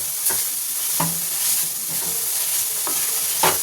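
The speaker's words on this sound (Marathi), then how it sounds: "थोडं थोडं गाजर टाकून आपण पहिले हलवून घेऊयात." Grated carrot is stirred in ghee in a pan, with a steady soft sizzle under repeated scraping strokes of a spoon against the metal.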